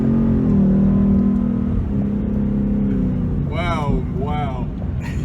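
A Whipple-supercharged 2018 Mustang GT pulls hard, its loud engine note climbing in pitch from inside the cabin, with people exclaiming over the roar near the end.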